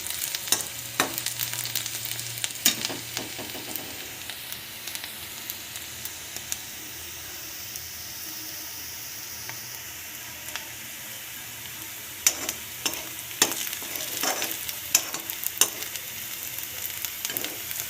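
Onions fry in a pan for mung dal, a soft continuous sizzle with scraping stir strokes clustered at the start and again near the end, fairly quiet and steady.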